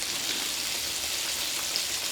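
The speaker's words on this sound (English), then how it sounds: "Yes, got that sizzle." Steady bright crackling sizzle of catfish frying in hot oil, continuous and fairly close, with no voices.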